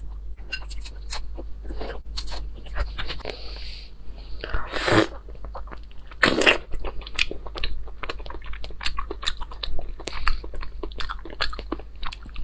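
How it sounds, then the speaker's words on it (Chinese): Crunchy chewing and biting into a black fruit, a close, wet and crisp eating sound that repeats steadily, with two louder bursts of crunching partway through and no talking. "今天吃黑黑的果子，第一次吃，第一次吃这黑黑的果子"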